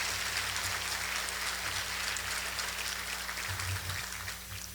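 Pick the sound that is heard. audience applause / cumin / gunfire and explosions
audience applause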